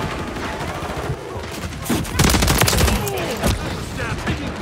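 Gunfire in the Call of Duty Modern Warfare 3 beta: rapid overlapping bursts and volleys of shots, loud and close, with a heavier burst in the middle and faint game radio chatter underneath.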